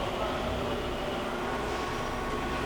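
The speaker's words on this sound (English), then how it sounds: "The y-axis also sounds good." Steady, even mechanical whirring comes from a Proto-Trak two-axis CNC vertical mill as its y-axis motor jogs the table. The drone is fairly quiet and close, holding without a break and with no talk.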